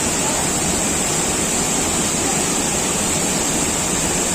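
A river swimming hole with rushing water gives off a loud, unbroken roar that stays steady and close throughout, with no voices.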